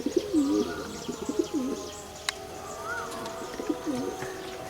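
Pigeons in a loft of racing and breeding birds coo repeatedly in low, rolling phrases, fairly close, with soft chirps and faint rustling behind them.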